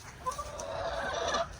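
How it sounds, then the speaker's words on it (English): A broody hen in a backyard garden coop gives a few soft, low clucks, faint and close, with no talking. "Got a broody hen over here."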